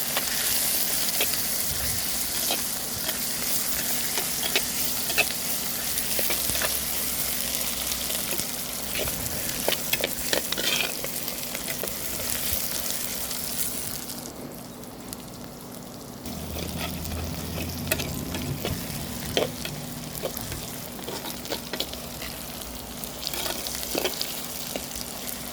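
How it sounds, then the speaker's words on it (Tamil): Peeled garlic cloves sautéing in hot oil in a pan for Koduva fish curry, a steady close sizzle and crackle, with occasional stirring clinks and a brief quieter moment midway. "எண்ணெயிலே நல்லா வதக்குங்க."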